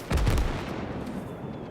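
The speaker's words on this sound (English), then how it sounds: "those mortars are coming in hot" Incoming mortar fire in a World War II Pacific battle game at Saipan lands as a single loud, booming impact with a short rumbling tail.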